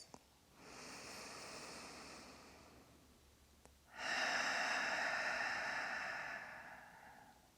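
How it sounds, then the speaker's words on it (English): Two long, deep breaths during a restorative yoga stretch, each a soft airy inhale or exhale of several seconds, close and quiet, separated by a brief pause. "3 deep breaths."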